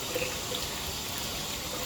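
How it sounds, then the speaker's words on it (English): Water runs steadily through a rotary brass tumbler loaded with stainless steel media, a continuous close hiss and wash of flowing water with no speech. "now I'm just running water through the tumbler with just the media in it."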